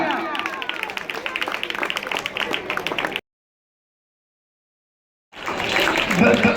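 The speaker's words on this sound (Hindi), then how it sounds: "जोरदार तालियां।" A crowd at a village welcome in Chhitharauli, Haryana claps vigorously, a dense rattle of many hands mixed with voices, which cuts out to total silence for two seconds before the clapping and chatter resume.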